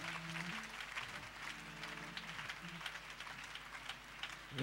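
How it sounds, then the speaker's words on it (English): A church congregation claps their hands during a Sunday morning worship service, a steady, dense patter of many hands filling the room, with sustained tones from music or singing underneath. "we clap our hands and just glorify the Lord"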